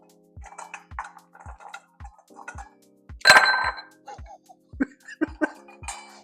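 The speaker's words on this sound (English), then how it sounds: "Grab your nice block of ice here." A block of ice clinks in a cocktail glass at a Chicago restaurant bar, giving a string of light, close glassy taps and knocks with a brief louder rattle partway through.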